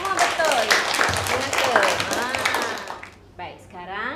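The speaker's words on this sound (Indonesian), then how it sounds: "Beri tepukan yang gemuruh." Primary-school pupils in a maths class clap together, a steady burst of close applause for about three seconds, then a voice speaks alone.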